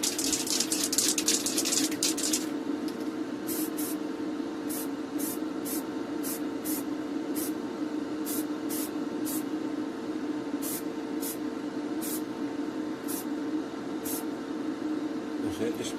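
Spray paint hisses onto a 1954 Dinky Toys Talbot Lago racer being restored in Monza blue, as a steady, close aerosol spray with a fan running. A few sharp clicks and bursts come at the start, then regular ticking pulses.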